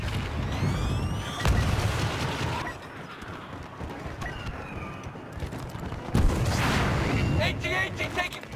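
Gunfire and heavy artillery blasts hit an AT-AT walker in a Star Wars Battlefront 2 battle, with booming impacts, laser shots and rumbling explosions layered together and a voice calling out over the din.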